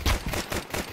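A rapid string of gunshots in Counter-Strike, loud and close, with repeated bursts packed into about a second.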